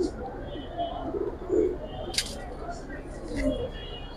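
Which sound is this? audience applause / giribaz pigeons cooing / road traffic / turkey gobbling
giribaz pigeons cooing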